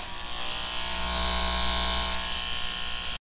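Electric hair clippers shave a head with a steady, loud, close buzz that runs unbroken for about three seconds and then stops abruptly, with no talking.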